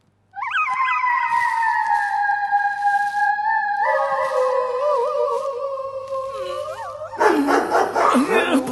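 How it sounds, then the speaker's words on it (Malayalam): A dog gives drawn-out, wavering howls and yelps at close range, holding long tones for several seconds before breaking into a rougher, noisier burst at the end. "പണ്ടാറടക്കിയ നായ"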